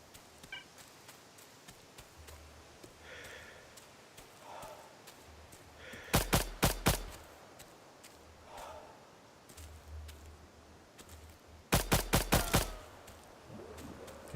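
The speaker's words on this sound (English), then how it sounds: "He's shooting at friendly NPCs." Two short bursts of gunfire in Stalcraft: X, each three or four sharp rapid shots, the first group coming midway and the second several seconds later, between faint distant sounds and quiet stretches.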